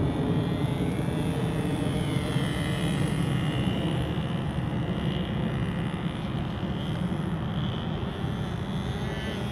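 At a flying field, a model airplane engine running rich drones steadily and continuously, a buzzy mid-distance hum that holds an even level with no clear pauses.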